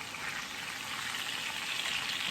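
Chicken saltimbocca searing in a hot pan, a steady bright sizzle holding evenly throughout with no talking.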